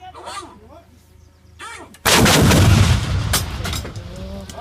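Artillery fires during an army military exercise, one sudden loud booming blast midway that rolls and echoes afterward, preceded by radio-style spoken commands.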